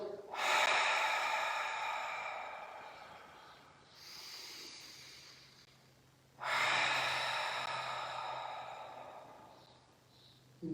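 Two deep, noisy exhales through the mouth during a guided yoga breathing exercise, each a long breathy rush that trails off, with a quieter breath between them, close and alone.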